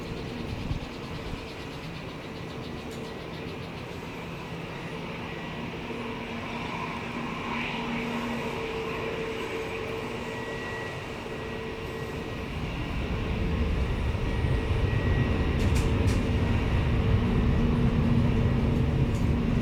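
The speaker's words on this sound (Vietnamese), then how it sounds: "Mời mọi người chiêm ngưỡng chiếc máy bay Boeing 737 của Ruli Airlines cất cánh rời khỏi sân bay Tân Sơn Nhất nha." A Ruli Airlines Boeing 737-700 airliner takes off from Tan Son Nhat airport, its sustained jet roar rumbling steadily and then swelling louder and deeper toward the end.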